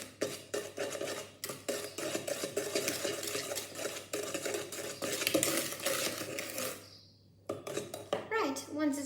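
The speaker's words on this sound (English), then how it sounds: "Now with your eggs and vanilla bean paste, just whisk that through until well combined." Eggs and vanilla bean paste are whisked in a bowl with quick, rhythmic metallic clicks and scrapes. The whisking pauses briefly near the end, then resumes.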